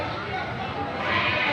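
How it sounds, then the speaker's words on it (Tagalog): Goats and sheep bleat at a livestock market during rainy, stormy weather, the calls mixed into steady rain and crowd noise, with people talking nearby. "Ito ang mga kambing ngayon."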